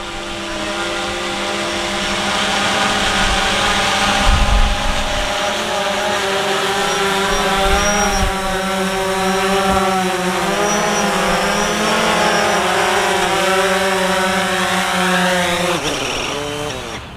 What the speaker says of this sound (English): the aircraft is coming down for landing now